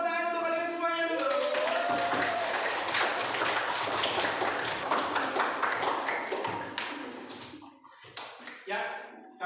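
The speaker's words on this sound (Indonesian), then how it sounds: "kasih tepuk tangan untuk kalian semuanya dulu." A primary-school class claps their hands together in a classroom, a burst of close, uneven clapping that rises after a teacher speaks, then thins out into scattered claps and voices.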